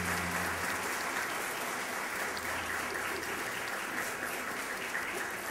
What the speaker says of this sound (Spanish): Quiero que le brindemos un aplauso porque ayer cumplió años.